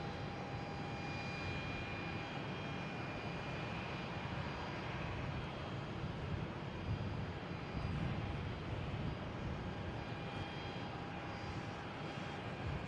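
An Air Canada airliner arriving from Montreal at Boston Logan International Airport gives a steady, broad jet-engine roar with faint whining tones, holding fairly level throughout with no voices.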